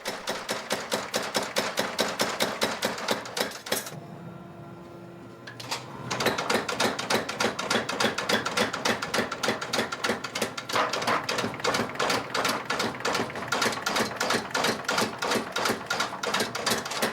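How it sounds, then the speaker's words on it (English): Rapid, rhythmic metallic hammer blows ring out continuously on iron being forged for an Echizen blade, briefly pausing partway before resuming at the same brisk pace. "Despite bouncing off the hammer, the iron gradually stretches out."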